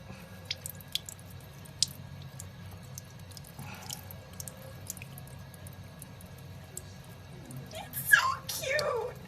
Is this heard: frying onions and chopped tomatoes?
no